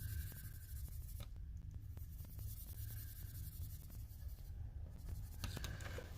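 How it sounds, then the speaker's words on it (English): A pen colours in a stamped image on a handmade card, a soft steady scratching and rubbing of the tip on paper with brief pauses, close and quiet throughout. "so I think I'll color that one all in."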